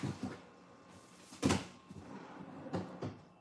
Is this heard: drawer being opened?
yes